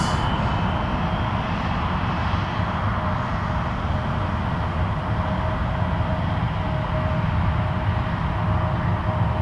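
Steady, loud jet roar of an airplane at Toronto Pearson Airport at night, a broad continuous rumble with a faint whine holding through the whole stretch, no talking.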